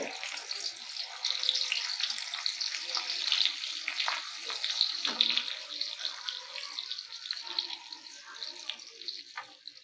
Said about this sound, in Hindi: ऑयल हमारी गर्म हो गया और अभी हम इसमें भिंडियों को शामिल करेंगे ताकि ये फ्राई हो जाए